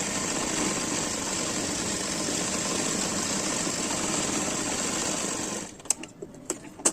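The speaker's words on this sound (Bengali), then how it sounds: "এবার দুপাশ সেলাই করে নেব।" A sewing machine runs steadily while stitching both side seams of a puff-sleeve nightie, loud and close for nearly six seconds, then stops and leaves a few soft clicks and handling knocks.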